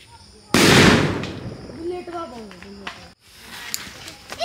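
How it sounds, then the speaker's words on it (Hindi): A chocolate bomb firecracker bursts with one sharp, loud bang during Diwali celebrations in a village, its crackling echo fading over a second before excited children's voices and chatter follow. "इतने सारे पटाखे, सारे पटाखे फूटने वाले हैं।"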